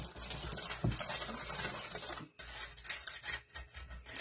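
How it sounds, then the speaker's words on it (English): A whisk scrapes and clinks steadily against a bowl while mixing pecan sour cream coffee cake batter, a close, busy patter of metal on the bowl with a brief pause midway. "I'm just going to whisk it together"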